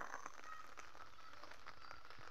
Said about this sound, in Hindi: कितनी बारिश हो रही है यहाँ पे झुमझुमाती बारिश पड़ रही है